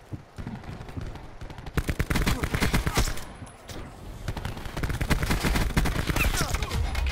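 Rapid automatic gunfire from a multiplayer shooter video game gunfight rattles in dense bursts, grows louder partway through and keeps going steadily with few pauses.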